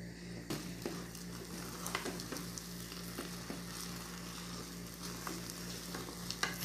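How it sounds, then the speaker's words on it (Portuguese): Thick, heavy coxinha dough is worked in a roomy pot with a wooden spoon, giving a steady low sizzle under repeated soft scraping and thudding stirs, close and moderately quiet. "Mexe com a colher de pau, com a panela bem espaçosa, para mexer bem"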